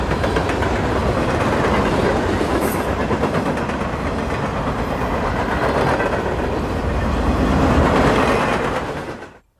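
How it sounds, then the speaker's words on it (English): Westbound freight train led by a GE C40-9 locomotive with an SD70M trailing, passing close by with a loud, continuous rumble and rhythmic wheel clatter on the rails, ending in a sharp cutoff. "15T is heading west with an interesting pair of locomotives, led by C40-9 8847 with 2587 trailing"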